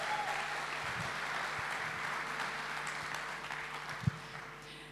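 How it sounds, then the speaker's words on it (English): Sustained applause from a crowd at a Nissan Z launch gathering, soft and somewhat distant, with a low hum beneath and a single sharper thump near the end. "So give yourselves a round of applause."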